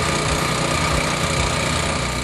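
A Turf Revitalizer lawn renovation machine's small engine runs steadily at a close, loud idle, a continuous rough chugging drone with no pauses.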